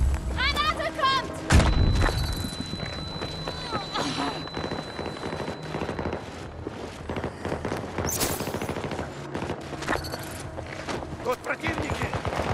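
In Battlefield 2042, a grenade blast and bursts of rapid gunfire crack and boom in quick succession, loud and close, with a muffled thump early on and voices calling out amid the shooting.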